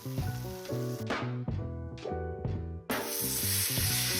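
Spices and salt sizzle in a pan for butter chicken curry, a steady hiss broken by a few stirring knocks, with background music playing throughout.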